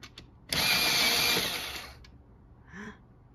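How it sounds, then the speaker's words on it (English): An electric pencil sharpener grinds a pencil in one steady, loud whirring burst of about a second and a half, then cuts off, leaving faint background noise. "Oh, I like my new sharpener."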